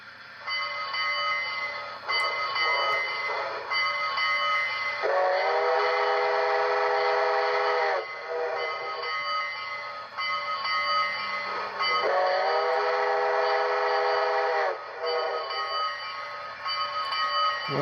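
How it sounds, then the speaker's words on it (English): Steady electronic bell ringing throughout from a brass O-scale CB&Q O5 model steam locomotive with QSI sound, joined twice by a long, loud harmonic steam whistle blast, each lasting about three seconds. "We're going to listen to the bell and the whistle real quick."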